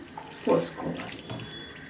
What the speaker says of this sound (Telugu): మనం కూల్ వాటర్ని పోసుకోవాలి.